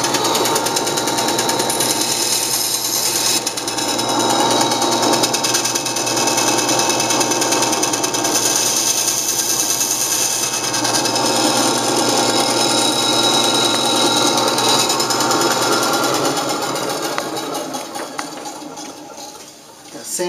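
A power tool runs continuously and loudly at close range, a harsh buzzing grind as it cuts the pivots off a model cannon, holding steady for most of the time before easing and tailing off at the end.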